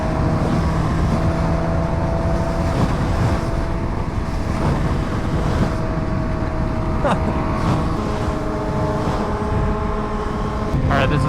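A Suzuki Hayabusa motorcycle pulls hard in second gear on the road, its engine droning loud and steady throughout, mixed with heavy wind rush and no clear break.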